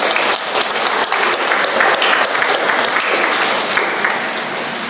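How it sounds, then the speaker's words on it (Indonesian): At an opening Mass for a psychology faculty anniversary, the congregation applauds the organizing committee with a loud, dense burst of many hands clapping, sustained and fairly even before easing slightly at the close. "kita beri tepuk tangan yang meriah."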